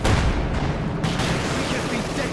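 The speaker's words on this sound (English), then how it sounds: "Anti-tank rifle firing away as well there." An anti-tank rifle fires in the Company of Heroes 2 strategy game. Loud, dense bursts of shots land amid a rumbling battle din, with heavy reports crowding the whole stretch.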